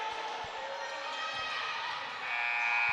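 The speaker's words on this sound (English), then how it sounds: "the buzzer sounds to end the first" A steady electronic buzzer ending the first quarter of a girls' high school basketball playoff game drones through a gym, with occasional ball bounces and faint crowd noise beneath.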